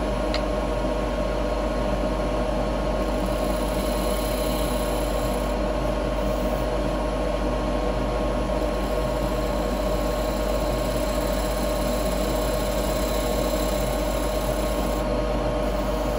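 A woodturning lathe cutting a wooden bowl with a fine cut, a steady continuous hum and whir from the spinning work with faint scraping texture, constant throughout and close by.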